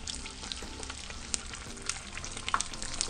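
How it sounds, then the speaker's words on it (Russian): Belyashi, meat-filled dough pastries, fry in oil in a pan, giving a quiet, steady sizzle with scattered crackles and pops throughout. "Затем переворачиваем и жарим до такого же цвета с другой стороны."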